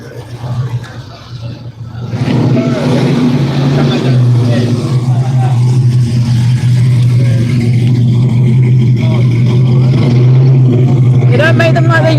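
Classic Porsche Boxster at a car parade revving after a quieter start, its engine note rising into a loud sustained drone close by while people talk over it.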